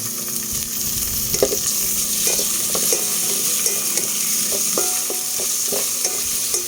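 Garlic and tomatoes sizzle in a hot pan for pork sinigang, with a spatula stirring and scraping against the pan in irregular clicks over the constant frying hiss.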